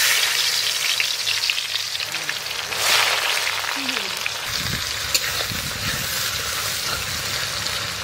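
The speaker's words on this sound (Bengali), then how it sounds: "পেঁয়াজের বেরেস্তা ভেজে নেব, তারপরে আমি ডিম আলু সব একসঙ্গে ভেজে নেব, তার জন্য দিয়ে দেবো সর্ষের তেল" Onions fry in mustard oil with a steady, close, crackling sizzle that continues throughout, and faint voices can be heard in the background.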